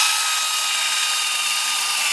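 A power drill bores into the center of a fake silver dollar coin taped to a 2x6 board, producing a loud, continuous, high-pitched grinding whine that holds steady for about two seconds without pause.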